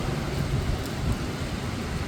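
Heavy rain pours in Kochi as a dense, steady roar of falling water, loud and continuous for a couple of seconds with no voices.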